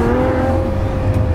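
Ferrari F40 fitted with a Capristo exhaust, its engine droning loud and steady close by with a deep, rumbling low end through the whole short stretch.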